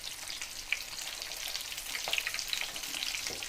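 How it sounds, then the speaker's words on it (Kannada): Pomfret fish coated in green masala frying in a pan, a steady close sizzle with crackling pops and a few brief clinks, no voices. "ಸಮ ಫ್ರೈ ಮಾಡ್ತಲೆ"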